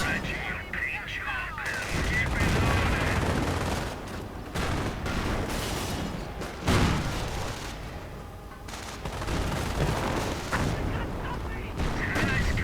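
Gunfire and explosions in a WWII strategy video game roll on continuously, with dense rifle and machine-gun bursts and heavy booms layered into a loud, busy battle din.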